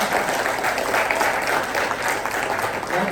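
A steady wash of clapping from a church congregation during a sermon, sustained and fairly loud throughout with no pauses.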